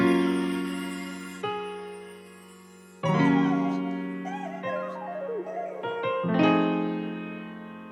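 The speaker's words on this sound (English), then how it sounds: "we just added some textures and chimes" Bright chime tones and airy Cymatics texture samples layered into a hip-hop music loop, entering in staggered bursts over sustained chords, melodic and ringing with no voices.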